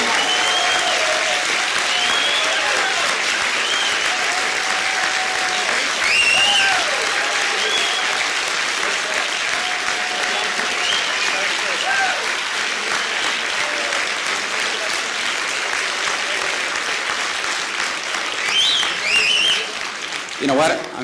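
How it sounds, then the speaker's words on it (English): Long, loud audience applause fills a hall, a continuous roar of clapping with cheers and whoops rising over it, and a voice briefly cutting through near the end. "Well, that is a crazy applause."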